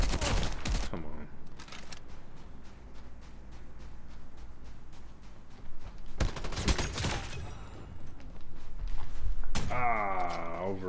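Rapid bursts of gunfire from Call of Duty Mobile, shotgun play with a Shorty, crackle densely and steadily, broken by sharper impacts and a swelling rising tone near the end, while a player speaks at points.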